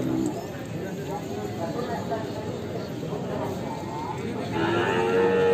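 Cattle, including bulls, mooing at a busy livestock market in Ngadirejo, low calls from nearby animals over a murmur of crowd chatter and shuffling hooves.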